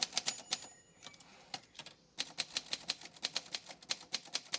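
Keys strike rapidly on a secondhand manual typewriter in a small studio, a brisk run of sharp clacks, a brief pause, then another burst of steady typing, quiet and close.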